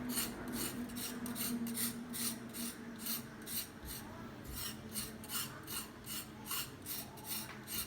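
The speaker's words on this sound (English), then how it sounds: "Now you have to peel off the skin." A drumstick vegetable's skin is scraped off with repeated raspy strokes, a steady rhythmic scraping roughly twice a second, close and fairly quiet, with no talking.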